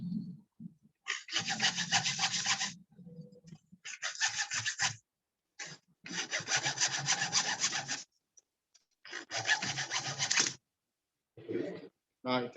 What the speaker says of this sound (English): What I will use is hand saw machine